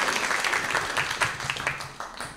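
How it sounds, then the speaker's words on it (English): A church congregation applauds during a Sunday service, a moderately loud crowd clap with distinct individual hits in an uneven rhythm, with no speech over it. "Please give a round of applause."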